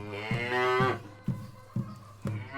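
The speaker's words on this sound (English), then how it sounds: "she mooed loudly 4 times." A buffalo moos: one long loud low call followed by several shorter grunting moos, close and clear with nothing else around.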